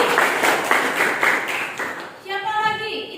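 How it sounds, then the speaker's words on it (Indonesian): Classroom applause for a student, brief bursts of clapping from a group of pupils with voices mixed in, followed by a short tonal sound near the end. "Tepuk tangan buat Anastasia."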